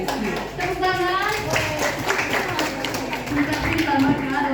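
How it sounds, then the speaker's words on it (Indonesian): Students clap together during a reproductive health talk for teenagers, with steady, fairly close applause and children's voices calling out over it. "Tepuk tangan."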